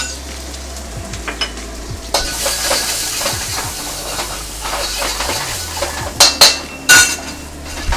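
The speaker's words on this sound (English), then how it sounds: "I'm giving that a quick toss to just sort of let it become aromatic." Garlic, ginger and white onions stir-fry in a wok, a bright sizzle broken by scraping tosses of the spatula and a few sharp metal clanks near the end.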